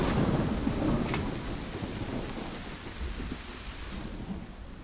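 Steady rain pours and a low thunder rumble rolls through at night in the DayZ video game, with a dense, continuous wash of rainfall heard up close and no voices.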